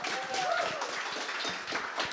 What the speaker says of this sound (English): I just want to keep the applause going